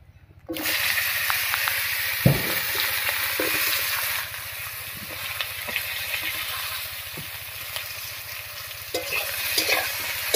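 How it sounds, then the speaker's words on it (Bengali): Eggplant frying in oil already used to fry fish, a loud close sizzle that starts abruptly, with scattered pops and light scraping, easing slightly midway but continuing to the end. "মাছ ভাজার এই তেলের মধ্যে বেগুনটা ভেজে নিচ্ছি।"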